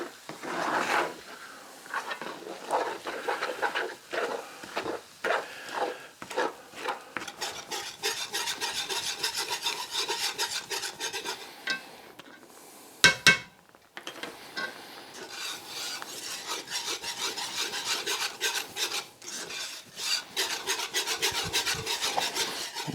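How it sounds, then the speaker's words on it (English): A small whisk scrapes and stirs an oxtail mixture in a pot on a stove set to medium heat, giving continuous rasping strokes with a brief pause midway, close and fairly loud. "Got this little whisk out, and that just helps break it up good."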